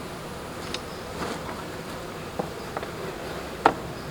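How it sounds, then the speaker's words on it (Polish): Constant low hum of many honey bees buzzing around a hive, with a few sharper buzzes passing close by, as bees are taken from the hive for a July package. "kontrolnie zważę sobie ile z tego ula wziąłem pszczół"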